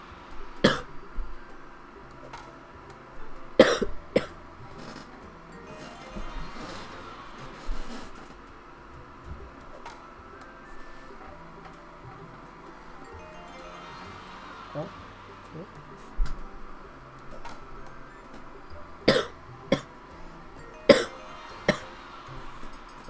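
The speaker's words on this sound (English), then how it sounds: "It's just evolving into me coughing." A person coughs repeatedly in sharp, scattered bursts, some loud and close, spread over a quiet stretch with faint background noise, during a game session.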